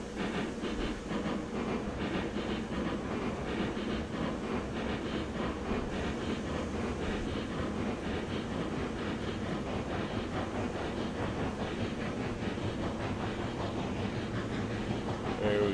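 A steady, continuous rumble of a video-game steam locomotive running with rhythmic clatter and chuffing, constant and moderately loud throughout, with no pauses.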